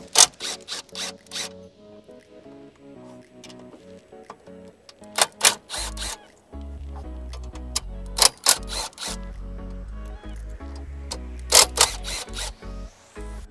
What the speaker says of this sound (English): Now I'll remove the four nuts that are all 10 millimeter on the top.